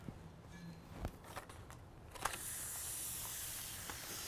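A burger patty hits a pan with a little oil and breaks into a bright, steady sizzling hiss after a few scattered clicks and knocks, close and continuing evenly to the end.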